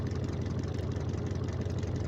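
V8 engine idling in the racing car game Automation, for a 2000 hp drag car, a steady, loud low rumble running continuously without a break.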